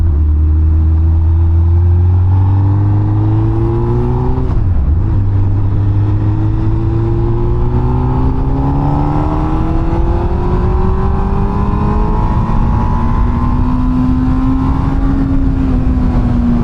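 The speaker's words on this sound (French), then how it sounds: "c'est dès que tu arrives à environ 8000 tours minute que là la moto commence à te donner tout ce qu'elle a" A 2007 Honda Hornet 600 motorcycle engine revs up and accelerates hard, loud and close, its pitch climbing through gears with a brief drop at a shift, then rising steadily again without talk.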